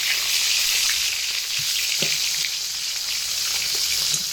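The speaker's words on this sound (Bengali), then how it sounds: "গরম তেলের মধ্যে নুন হলুদ মাখিয়ে রাখা মাছগুলো দিয়ে একে একে ভেজে নিচ্ছি" Fish pieces rubbed with salt and turmeric fry in hot oil, giving a steady, close, hissing sizzle with faint crackles and an occasional soft knock, with no voices.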